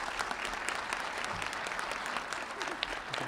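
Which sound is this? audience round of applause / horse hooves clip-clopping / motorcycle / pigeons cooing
audience round of applause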